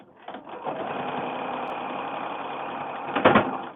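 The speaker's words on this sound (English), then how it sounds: "I think I've just sewn over a bead." Domestic sewing machine stitching 4-inch fabric swaps into a mini quilt and running over a bead, a steady close motor whir for about three seconds ending in a brief louder rattle and knock.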